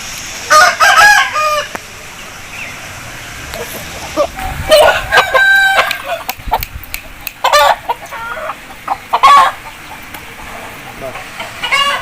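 Aseel rooster, a champion fighting breed, crowing and clucking nearby in loud bursts separated by short pauses, with other fowl and faint background voices.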